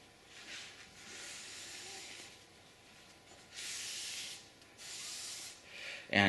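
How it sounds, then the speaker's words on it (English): Wet glue is wiped off an edge with a cloth while building an Affordaplane ultralight aircraft: several soft, close rubbing swipes in uneven bursts, separated by quiet pauses, with a brief louder knock at the very end. "And then wiping it off."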